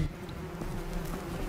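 A wasp buzzes close by in a steady, continuous drone that lasts through the short stretch, with faint background noise and no voices.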